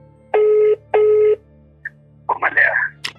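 Two steady electronic dialing beeps sound close together, each lasting under half a second, followed by a few short rustling noises.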